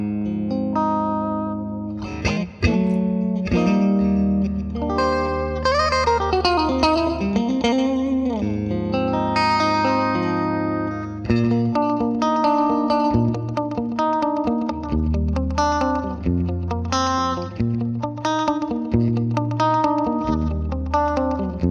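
A clean 1961 Fender Stratocaster on its bridge and middle pickups plays chords and single notes with a bright, slightly hollow, nasal quacky tone, ringing with some reverb and no voices.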